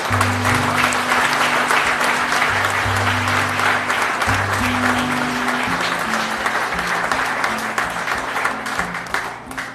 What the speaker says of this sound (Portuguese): Vale um aplauso ao Senhor.